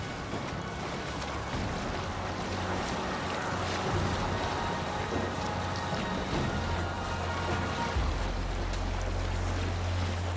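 A Viking sailing boat out on open water in Assassin's Creed Valhalla: a steady wash of waves and wind around the hull, with a low rumble swelling in during the final seconds and no voices.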